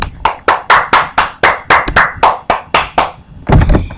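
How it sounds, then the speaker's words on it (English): A single person's hands clap a quick round of applause, about a dozen sharp, loud, close claps in a steady rhythm with a brief break and a muffled thump at the end. "Give him a round of applause."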